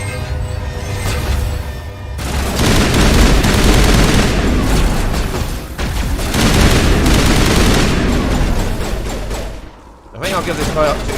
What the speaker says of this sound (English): Chemical rounds on my assault rifle.